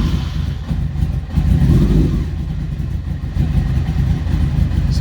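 A Honda CBR900 streetfighter motorcycle engine runs cold at a low, rumbling idle, close and loud, with a slight rise in revs partway through.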